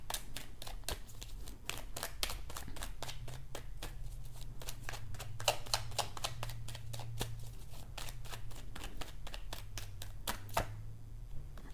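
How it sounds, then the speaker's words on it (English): Tarot cards are shuffled and handled, a fast, steady stream of crisp slaps and flicks close up for several seconds, with a low hum in the background and no speech. "I'm going to pull one more card for that."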